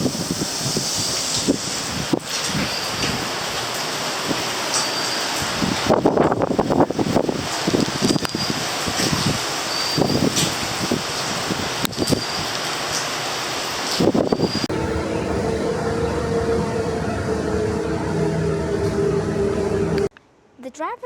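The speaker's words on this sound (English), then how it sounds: "it's pouring rain and very windy" Pouring rain and strong wind lash through Colombo during a cyclone, a dense roaring hiss with heavy gusts and wind buffeting the microphone, loud and constant, with brief voices in the middle.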